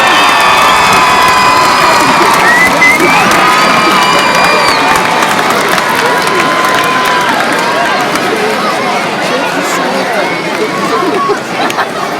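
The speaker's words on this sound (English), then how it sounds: "a big round of applause to our student athletes" A large community kickoff crowd applauds and cheers for student athletes, with loud sustained clapping, whoops and children shouting that fill the space continuously, close and dense throughout.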